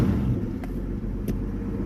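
A 1981 Ford Capri engine idles low and steady before being warmed up, with two brief rev blips breaking through the rumble.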